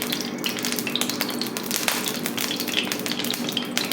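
Chicken pieces fry in oil in a pan over a medium flame for chow mein, giving a loud, dense, continuous sizzle up close with brisk crackles and occasional stirring knocks.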